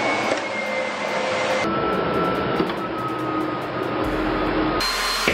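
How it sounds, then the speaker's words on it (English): An Andis blow dryer runs on medium heat, giving a steady, loud broadband whoosh with a whining tone that shifts pitch a few times, continuous throughout with no talking. "This is the blow dryer that I'm going to use"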